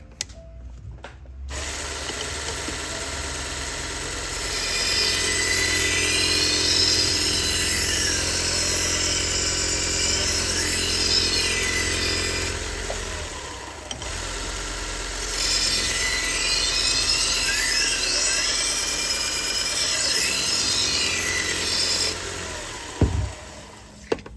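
A Mac Japanese kitchen knife is sharpened on a 400 grit whetstone, making steady, close abrasive scraping in two long sustained passages separated by a short pause, with no talking.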